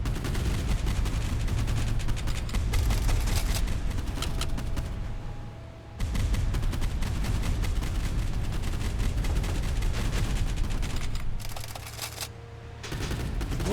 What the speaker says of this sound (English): Nah, let's just call artillery.